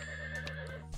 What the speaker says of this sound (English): What horse noise. A horse noise.